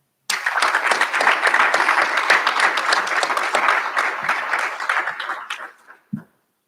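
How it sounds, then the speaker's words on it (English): A graduation recognition ceremony audience at Old Westbury breaks into sustained applause, a dense wash of clapping that holds steady for about six seconds and then stops abruptly, with one last faint clap. "Please join me in applauding them."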